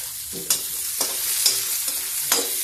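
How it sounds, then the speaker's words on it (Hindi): Onion goes into browned garlic frying in an iron kadhai, a continuous close sizzle punctuated by several sharp metallic stirring strokes, with no voices. "देखिए, लहसुन ब्राउन हो गया है करीब करीब। ये तो अब हम डाल देते हैं इसमें प्याज।"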